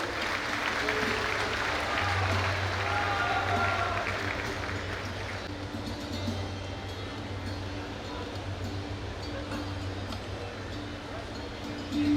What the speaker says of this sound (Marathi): टाळ्या जरा जोरात होते